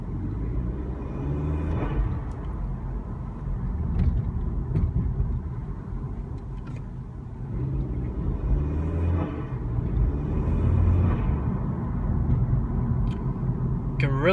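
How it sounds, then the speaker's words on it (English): A 2016 Honda Civic turbo with a short ram intake, heard from inside with the windows up: a steady low engine rumble with gentle rises and falls as the car drives. "Can really hear that turbo,"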